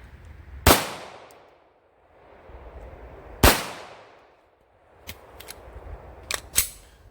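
Model 35 handgun fired at a range: two loud, isolated shots a few seconds apart, followed by a quicker cluster of lighter cracks and clicks near the end.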